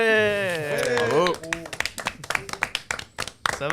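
Scattered hand clapping from a small group at a recorded gathering, a sparse patter of claps following a sung or drawn-out voice, with people talking throughout.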